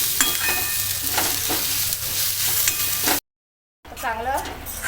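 Tomato frying with fish masala in a pan for a Konkani prawn and dried fish meal, a steady close sizzle with stirring scrapes, breaking into a brief silence before the sizzle returns.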